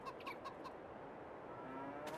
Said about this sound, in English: Loads of chickens.